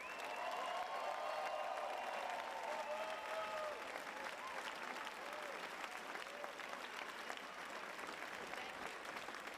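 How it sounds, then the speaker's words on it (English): An audience at an event marking the 50th anniversary of the Stonewall Uprising applauds steadily, a dense wash of clapping that fades slightly toward the end. "Please give them a round of applause."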